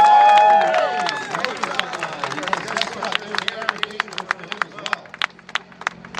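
An audience claps for the rider Ray at a feat-of-strength show, with a whistle or cheer at the start, then steady, fairly close hand claps that gradually thin out and become sparser.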